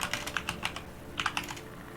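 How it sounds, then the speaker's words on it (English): Typing on a computer keyboard, picked up by a live-stream microphone, with a quick burst of crisp keystrokes, a short pause, then a few more clacks, close and alone. "Oh, I hear typing."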